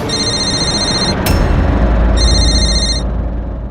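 A telephone rings in two electronic bursts separated by a short pause, loud and close over a low background rumble.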